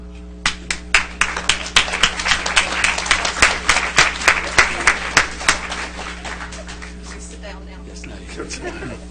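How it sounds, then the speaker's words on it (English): A small group claps for several seconds, steady and close, then the clapping trails off into a quiet room. "I'd like to applaud you."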